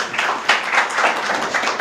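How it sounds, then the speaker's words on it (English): Applause for the minister at a media briefing on Kenya's dairy industry, a thin scattered patter of claps from a small group lasting under two seconds, fairly close with no voices over it. "We have another round of applause for Waziri."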